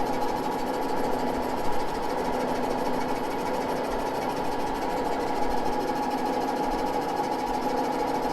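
A Moore No. 2 jig boring machine turns at about 397 RPM with a fine feed while boring 1953 Harley-Davidson K Model engine cases, giving a steady, continuous machine hum and whir that stays level throughout with no talking.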